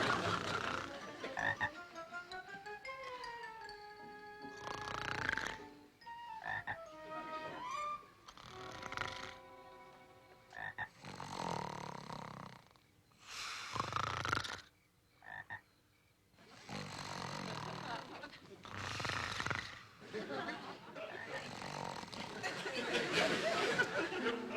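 Frogs croak in loud rhythmic bursts with strongly pitched, warbling calls, alternating with spells of broadband snoring-like rasps, close and prominent throughout.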